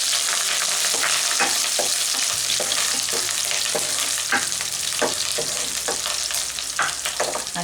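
Onions, dried red chillies and curry leaves crackle loudly in hot oil while a spoon scrapes and stirs them in rhythmic strokes, a dense, close sizzle running throughout.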